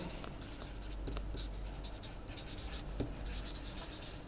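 A proof is written out by hand, likely chalk or pen on a board, with continuous faint scratchy strokes and taps in a quiet room, no talk.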